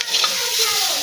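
Oil and cumin seeds hit a hot pan, a loud, dense, close sizzle that crackles steadily throughout with no talking.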